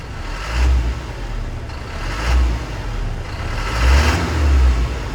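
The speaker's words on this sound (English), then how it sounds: "Let's give it a little rev, see how it sounds." A Ford Mustang GT350 engine revs up three or four times in quick succession, each rise swelling loudly then easing back to idle, close by.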